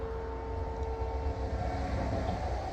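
Eastbound train passing at a distance, heard as a faint, steady low rumble with a sustained horn-like tone, no voices.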